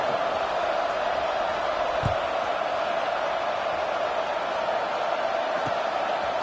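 A large stadium crowd at a football game just before kickoff makes a steady, dense roar of murmuring voices that holds level throughout, with a couple of faint low thumps underneath.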